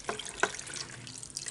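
Liquid is poured into a pan over Guyanese-style souse fixings with onions and garlic, giving a soft, uneven trickle and splash with a few sharper drips, fairly close and without talking.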